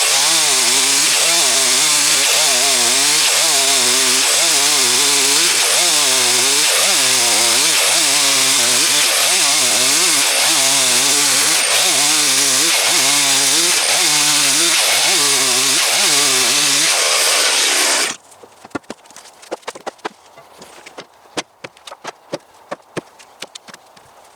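A chainsaw runs loud and close, cutting a firewood round into thin 3-inch slabs with a steady, rhythmic bogging as it goes through the wood. The engine cuts out and scattered knocks and clatter follow.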